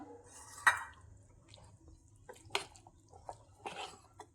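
Jackfruit idli batter being stirred in a bowl, giving a few soft wet squelches and sharp clinks of the spoon against the bowl, spaced irregularly and fairly quiet, with no talking.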